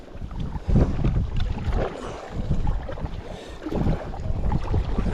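Wind buffets the microphone while kayaking on open water, a steady low rumble with gusts swelling and easing throughout, mixed with faint paddle and water sounds close by.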